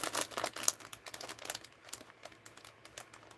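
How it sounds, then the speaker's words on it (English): A paper envelope being torn and pried open by hand, with crisp crinkling and tearing bursts close up, irregular and fairly loud with no talk. "It's always a challenge to open these envelopes."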